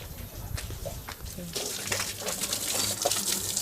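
Water gushes steadily from a tap after a pump is switched on, a continuous close rushing flow that swells slightly louder partway through.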